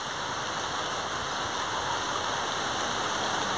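Rain falling over an open farm field where weeds are being pulled, a dense, even hiss of steady downpour with no breaks, close and moderately loud, with nothing else standing out.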